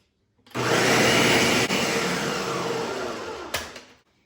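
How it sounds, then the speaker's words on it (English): A kitchen blender purees a whole can of crushed tomato with five serrano peppers and a head of garlic, a loud steady whir that starts abruptly, runs several seconds, then winds down. "And you put it in a blender and blend them."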